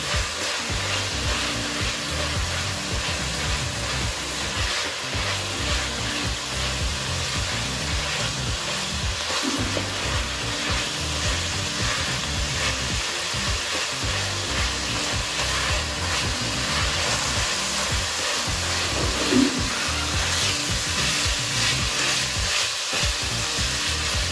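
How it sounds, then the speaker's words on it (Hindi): Minced meat keema fries with whole garam masala in a pan, a steady dense sizzle throughout with occasional stirring scrapes, close and continuous with no talking. "गरम मसाले के साथ इसको अच्छी तरह फ्राई करेंगे कीमे को।"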